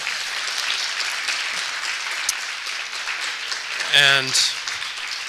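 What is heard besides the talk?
audience applause for jazz musicians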